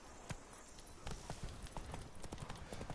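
Roach, Geralt's horse in The Witcher 3: Blood and Wine, trots with steady rhythmic clip-clop hoofbeats at moderate distance, continuing throughout.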